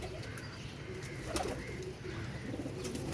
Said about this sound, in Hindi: माशाल्लाह गुंबद वाला कबूतर है